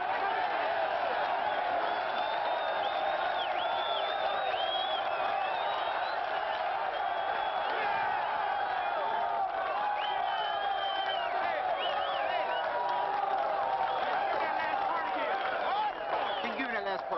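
A crowd of prisoners cheering and applauding in a yard, with steady massed yelling and clapping throughout and no break, heard at a distance and fairly faint, with voices calling out above the roar.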